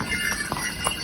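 A horse walking along the Kedarnath mountain path in the Himalayas, in a landslide-prone area, lands a few sharp, close hoof strikes in quick succession over a constant background hiss.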